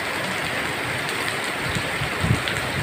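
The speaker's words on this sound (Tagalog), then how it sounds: "Dito tayo ngayon sa may sa pinagbabantayan ko na lakas ng ulan. Ito. Heavy rainfall." Heavy rainfall pours down in a dense, steady hiss with scattered nearby splashes and drips, loud and unbroken throughout, with no voices.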